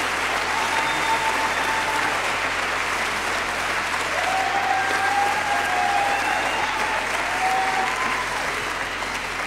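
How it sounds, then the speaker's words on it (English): Sustained, dense applause from a standing audience at a fall gospel choir concert, loud and steady throughout with a few faint whistles and cheers rising over the clapping. "So stand and give her a hand clap for me, please."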